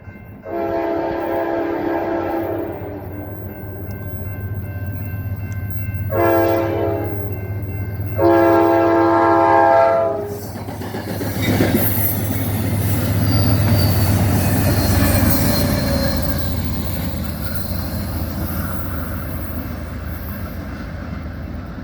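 An Amtrak Cascades passenger train heading southbound through Rocky Point sounds three loud horn blasts, then rolls past with a heavy, sustained rumble of wheels and cars that slowly fades.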